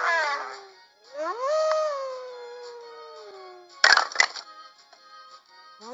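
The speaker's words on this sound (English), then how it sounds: "Wolf." A wolf howls clearly in a long rising then slowly falling tone after a brief opening howl, followed by a couple of sharp cracks and softer trailing sounds.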